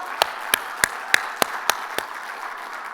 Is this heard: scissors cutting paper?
no